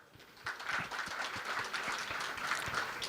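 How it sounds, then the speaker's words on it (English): Hotel housekeeping professionals at a leadership gathering applaud themselves, starting softly and building into moderate, steady clapping with individual hand claps standing out within the crowd. "that deserves a big round of applause for yourselves"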